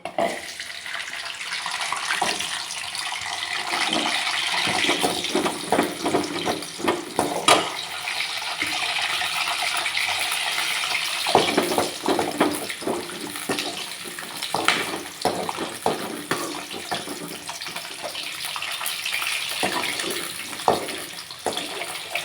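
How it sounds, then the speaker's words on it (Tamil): Garlic frying in hot oil in a home kitchen while making a Tamil sour-greens thokku, a steady broadband crackling sizzle with dense spitting pops throughout, fairly close and continuous, with no talk. "இப்போ பூண்டை வந்து எண்ணெயில் சேர்த்து வறுத்து எடுத்துக்கலாம்"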